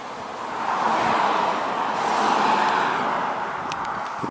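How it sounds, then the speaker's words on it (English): Road traffic near Egryn Abbey on the Welsh coast, a car swelling past as a broad whooshing rush of tyre and engine noise, moderately close and fading at the end, without speech. "It's nice to get away from that traffic noise"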